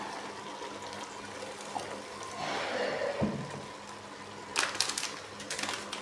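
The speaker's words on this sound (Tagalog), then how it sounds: "Lagyan natin ng soy sauce." Soy sauce poured into a cooking pot of octopus adobo with carrots, a soft liquid splash and trickle swelling briefly mid-way, with light clatter near the end.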